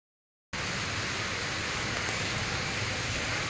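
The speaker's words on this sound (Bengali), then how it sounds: "অঝোরে বৃষ্টি নেমেছে" Heavy rain pours down outside a home, starting abruptly after a moment of silence and then holding as a steady, dense, even hiss with no breaks or voices.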